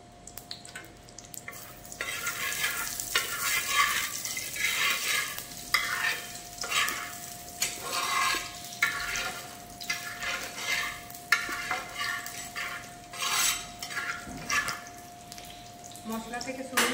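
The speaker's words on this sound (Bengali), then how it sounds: "ঘি দেওয়ার পর দিয়ে দিচ্ছি ফাটানো এলাচ, দিয়ে দিচ্ছি শুকনো লঙ্কা ফাটিয়ে দুটো," Cracked cardamom, two split dried red chillies and cinnamon sizzle in hot ghee, with steady scraping strokes of a spoon stirring through the pan and a faint constant hum beneath.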